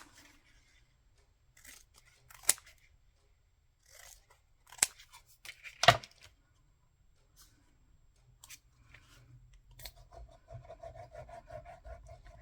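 Scissors cutting out paper for collage ephemera holders, with sparse close snips and crisp rubbing sounds separated by quiet pauses, a few louder cuts midway, then faint continuous rustling.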